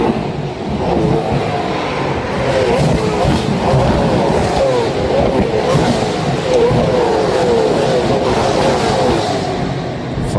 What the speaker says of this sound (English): This is the sound of the V8 supercars.